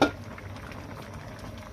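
A pot of tomato coriander dal with garlic and tamarind bubbles quietly, with a soft, steady simmering patter after a brief clink at the start.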